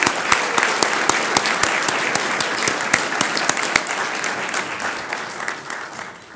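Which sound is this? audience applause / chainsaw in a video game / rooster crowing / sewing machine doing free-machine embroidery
audience applause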